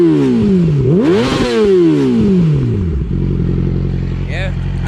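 A Yamaha R6 motorcycle engine revs up and down repeatedly, loud and close, with rising and falling pitch, then settles into a steady rumbling idle.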